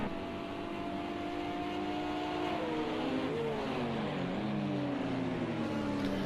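Two LMP2 race car engines in a sim racing game, one a V6, drone and whine together, their pitches rising and gliding apart as they accelerate and shift, steady and close throughout.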